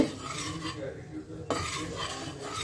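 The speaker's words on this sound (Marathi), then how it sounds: "हे बेसन थोडंसं लाल भाजून घ्यायचं" Gram flour being dry-roasted and stirred in a pan, soft scraping and shuffling of a spoon against metal with a faint sizzle, pausing briefly midway before the stirring resumes up close.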